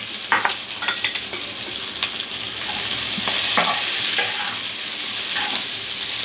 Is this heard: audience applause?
no